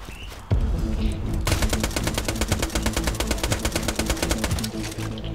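Automatic gunfire in the shooter game Borderlands: a single sharp shot, then a long, loud, evenly spaced stream of rapid rounds that keeps firing for several seconds before trailing off.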